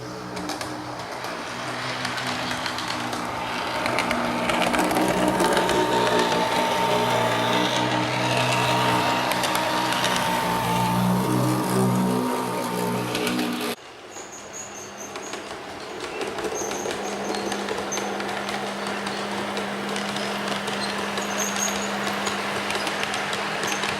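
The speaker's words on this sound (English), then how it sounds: "I'm going to try and capture the noise of this loco. It's very, very weird." Heljan model locomotive running on the Kampala Rd layout, its motor giving a steady, continuous drone with a faint rail rumble; the tone shifts and drops slightly partway through, with no voices.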